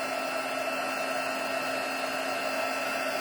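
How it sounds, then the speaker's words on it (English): A heat tool blows steadily over inked cardstock, a loud constant whirring hiss with a fixed motor hum and no pauses. "I'm just drawing it with my heat tool here, just to make sure my ink gets dry."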